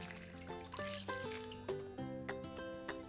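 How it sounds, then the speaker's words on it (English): One cup of water poured into an Instant Pot for steaming artichokes, a short trickling pour with ringing, hollow tones from the pot, moderately quiet. "And now we're going to add 1 cup of water."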